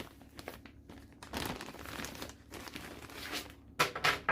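Crinkly plastic packaging around a 2 m drain-insertion heating cable is handled up close, with bursts of crumpling and rustling through the whole stretch and a few sharper crackles near the end, no talking.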